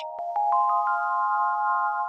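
A telephone ringtone plays as a radio call-in line rings: a few short rising chime notes followed by a sustained steady electronic tone, clear and prominent, with no talking.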